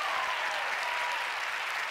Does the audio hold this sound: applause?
yes